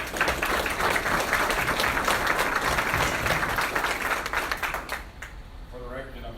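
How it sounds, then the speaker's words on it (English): Audience at a Patriot Day remembrance ceremony in Vienna, Virginia applauds dignitaries including a police chief, a dense, steady wash of clapping that fades off near the end, with a voice emerging afterward. "Let's give them a round of applause."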